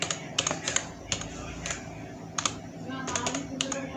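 Keys clatter on a computer keyboard as a bookmark name is typed into Microsoft Word, coming in short quick bursts with pauses between, fairly close and unaccompanied by talk.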